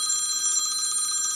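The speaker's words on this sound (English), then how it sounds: "There's the phone again." A telephone rings with a continuous bright electronic trill, steady and fairly loud throughout, with no voices over it.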